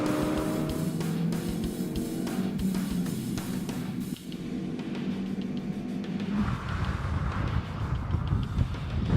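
A front-wheel-drive Ford Fiesta ST drives hard on a race track, its engine a steady, loud drone with broad road and wind roar, shifting in tone partway through as the car changes speed.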